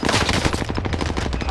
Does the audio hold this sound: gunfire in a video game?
yes